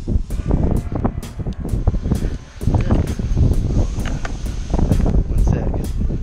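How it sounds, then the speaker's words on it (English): Gusty wind roars steadily across the open ground of a skydiving landing zone in Georgia, buffeting the microphone with a continuous low rumble and flutter, while people talk over it. "The wind's kind of nasty."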